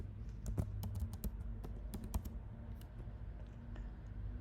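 A password typed on a computer keyboard, irregular quick key clicks at close range, fairly quiet, with no talking.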